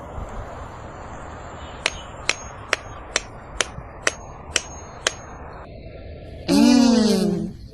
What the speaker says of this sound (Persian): تو گفتی اگه با این چکش به این چوب غذاخوری بزنم سیب زمینی میافته.